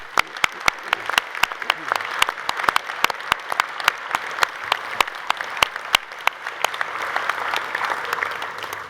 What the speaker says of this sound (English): Can everyone please honour them, our newest graduates, with your applause.